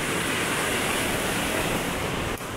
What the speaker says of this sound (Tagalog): Tapos ito yung waterfalls.